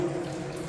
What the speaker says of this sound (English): this is just the surface water to drain down the black pipe